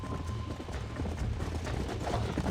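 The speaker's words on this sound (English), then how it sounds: "There's the horses!" Horses galloping in the Red Dead Redemption video game, a steady, loud drumming of hoofbeats that fills the whole stretch with no talk over it.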